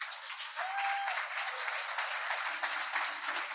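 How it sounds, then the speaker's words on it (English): An audience at a campfire gathering claps steadily in a dense round of applause that holds at an even level throughout. "please give him a huge round of applause"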